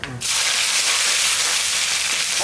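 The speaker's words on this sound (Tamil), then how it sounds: "இது கடுகு, உளுத்தம்பருப்பு, ஜீரகம் இது வந்து நல்லா பொரிஞ்சு செவக்காக வரணும்." Mustard seeds, urad dal and cumin frying in hot oil give a steady, close, continuous sizzle and hiss that runs unbroken after a brief sound at the very start.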